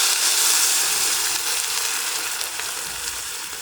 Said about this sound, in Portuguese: Vou ficar mexendo e vou deixar esse vinho branco ele evaporar totalmente, mexendo sempre